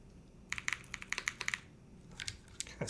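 Crisp, clacky keystrokes on a Keycult Rev 2 TKL mechanical keyboard, typed in quick irregular bursts with short pauses, close and fairly quiet.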